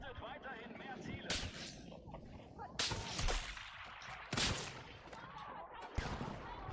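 Gunfire in the video game Battlefield 6: a few sharp, loud shots spaced about a second and a half apart, cracking out over a dense, constant battlefield rumble.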